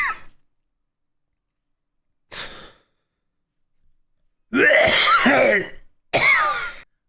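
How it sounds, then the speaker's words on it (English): A person clears their throat in a few short, harsh bursts separated by silence, close and fairly loud, with a faint breath sound before them. "Okay, I had to clear my throat."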